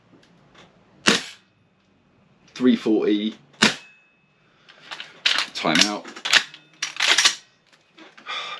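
A few sharp, loud cracks of a Tokyo Marui MWS airsoft sniper rifle with a steel bolt cycling, spaced apart, with someone talking between the shots.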